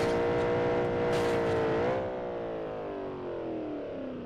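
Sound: Ferrari engine accelerating in video game BeamNG.drive

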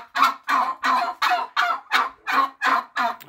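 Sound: turkeys gobbling

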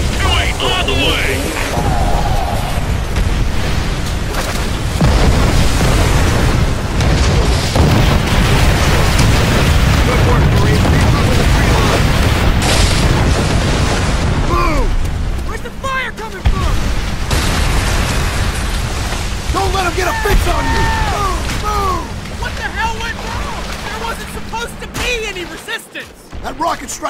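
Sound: rocket artillery strike explosions in video game Call of Duty: World at War

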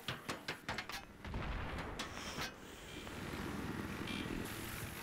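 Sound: gunship firing in Battlefield 3 video game

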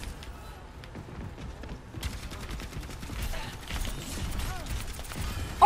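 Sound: gunfire from Overwatch video game

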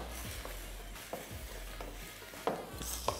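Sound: alcohol evaporating in hot pan while cooking

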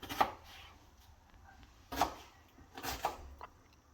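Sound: chopping onion into cubes

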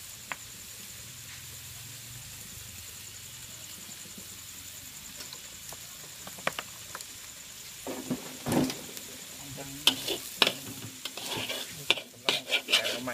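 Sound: stir-frying pork and kale fried rice in oil

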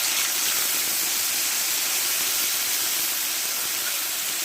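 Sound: whole cumin and ginger-chili paste sizzling in oil

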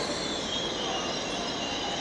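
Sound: InterCity 125 HST train at the station

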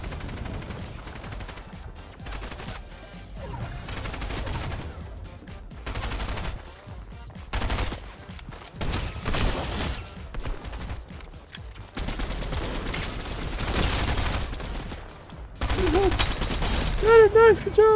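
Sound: gunfire from shooting in the video game Fortnite

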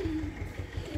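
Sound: homing pigeons cooing at a pigeon loft

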